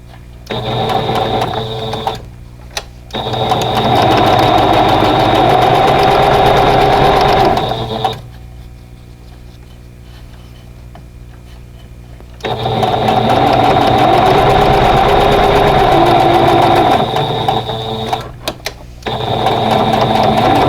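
A sewing machine chain-pieces quilt block patches, running in two long steady bursts with a pause between and a brief stop near the end, loud and close with no talk.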